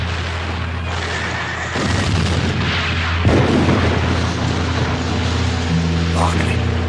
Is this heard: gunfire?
yes